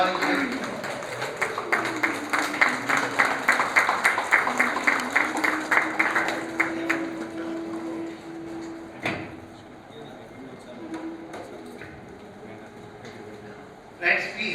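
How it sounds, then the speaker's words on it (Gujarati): An audience at a cooperative societies conference keeps clapping in a fairly even, rhythmic patter under an announcer's voice for about seven seconds. The applause then fades into talk and a couple of sharp knocks. "તાળીઓ અટકવી નહીં જોઈએ"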